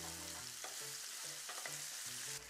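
Onions browning in a pan for gravy ahead of roast chicken give a steady close sizzle, with a few brief scraping and stirring strokes breaking through the hiss.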